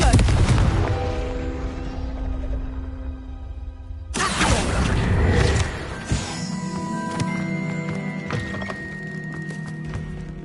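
Confringo explosive spell cast in Hogwarts Legacy: a loud, booming blast that decays slowly, followed by a second burst, then sharp thuds and a sustained magical tonal ring.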